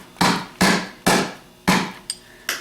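Sharp metal taps while rebuilding a Ford PMGR starter to knock loose the gears and small ball from inside the housing: six distinct strikes at uneven intervals, close and loud, each ringing briefly before fading.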